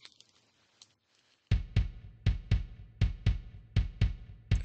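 A human heartbeat, the mother's as heard from within the womb, thumping in clear, deep paired beats at a steady rhythm after a brief quiet start.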